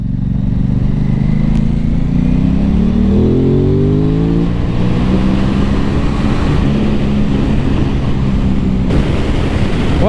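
A 2021 Aprilia RS660 A2 motorcycle on a race track, its engine loud and close, revving up through quick-shifted gears with rising and falling pitch sweeps and strong wind rush.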